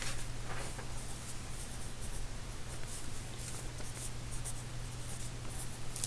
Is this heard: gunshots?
no